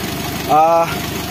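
A Daihatsu Gran Max, a van with a check-engine fault that makes it stall often, idles with a low, steady pulsing hum, briefly overlaid by a short tonal voice sound.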